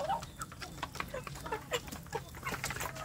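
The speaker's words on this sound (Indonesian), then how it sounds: "ini khusus ayam kampung saya yang betina, ini saya kelompokkan di sini" Free-range village hens cluck in a pen, soft repeated short clucks and murmurs from several birds, fairly close but quiet over a low background hum.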